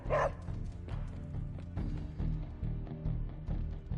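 A single short bark or yip from Charlie the puppy in the video game Marvel's Midnight Suns, heard at the very start over a steady low game soundtrack.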